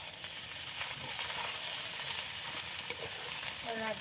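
Basanti pulao, a large batch of rice, cooking in a small wok-style pan at an outdoor family picnic, giving a soft continuous sizzle and hiss with faint stirring scrapes, quiet and close.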